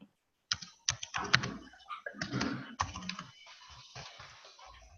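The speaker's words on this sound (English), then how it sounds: "I'm just typing it" Typing on a computer keyboard during a software QA training session: close, rapid bursts of key clicks with short pauses between them, no talk over it.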